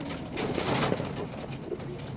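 Rock doves coo in soft, low, repeated calls close by, a continuous murmur of several birds cooing over light background noise, with no talking.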